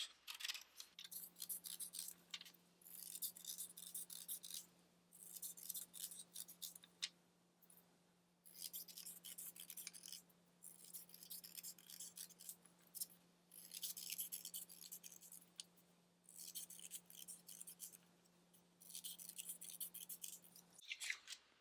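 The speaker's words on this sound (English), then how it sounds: "you can take your scissors and start cutting up your beads" Scissors cut paper into strips for beads in quiet, repeated snipping bursts over about twenty seconds, close but faint, over a low steady hum.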